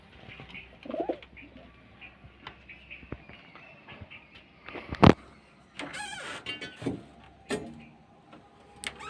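Adult pigeons kept in a home loft cooing softly in short low phrases, with a sudden sharp clatter and some wing or cage rustling partway through.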